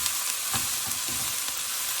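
Red cabbage is tossed around in a pot, a steady close sizzle broken by soft scraping and clattering stirs.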